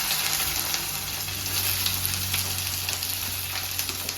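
Onions and green chilies fry in hot groundnut oil, giving a dense, continuous crackling sizzle at even loudness with a few faint stirring sounds.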